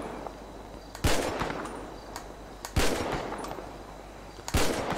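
Automatic gunfire in GTA V as a magazine is emptied: three loud, separate bursts of rapid shots at about one, two and three-quarters and four and a half seconds, close and dry over a steady game background, with no talking.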